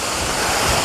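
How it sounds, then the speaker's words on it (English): Waterfall on a university campus in springtime, a steady, dense rush of falling water that fills the clip at close range with a constant broadband roar and no talk. "I'm out looking at the beautiful waterfall as the water fall"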